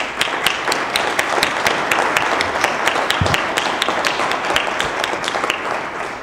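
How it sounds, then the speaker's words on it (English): Applause for panel discussants at the close of a university panel discussion on religion and democratic pluralism, a steady audience clapping with individual sharp claps standing out, holding an even level throughout. "Let's give the discussants a round of applause and David Campbell"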